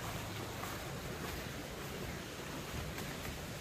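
A hydraulic ram pump runs with water flowing through its pipe, giving a dense, steady rushing wash with faint periodic pulses throughout, fairly loud and close.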